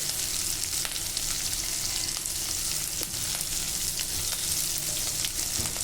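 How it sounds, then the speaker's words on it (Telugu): Salted onions frying in a pan for a bottle gourd curry give a continuous, close, even sizzle with faint crackles throughout. "మనం సాల్ట్ వేసి ఉల్లిపాయలు వేయించుకున్నట్లయితే త్వరగా మెత్తబడిపోతుందండి"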